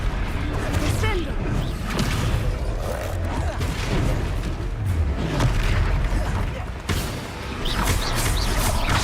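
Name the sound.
Descendo spell impact in video game Hogwarts Legacy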